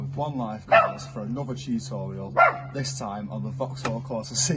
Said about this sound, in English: I'm sorry about that barking, it's my annoying little dog